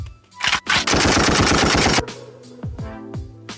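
A gunshot sound effect plays: rapid machine-gun bursts fire in a loud rattling string, followed by a few separate shots that fade away.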